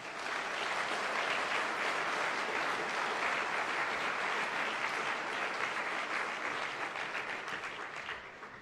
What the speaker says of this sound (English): And one more round of applause for the Minister today.